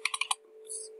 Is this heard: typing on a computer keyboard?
yes